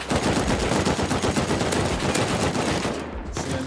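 Rapid gunfire in the survival video game Rust near a large oak tree, dense bursts of shots filling the clip loudly and continuously before easing slightly near the end.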